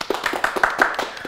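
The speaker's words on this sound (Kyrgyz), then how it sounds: "Кол чабуулар." A brief burst of audience applause at a Kyrgyz comedy show as guest singers are introduced: quick, moderately loud clapping with a steady, scattered rhythm.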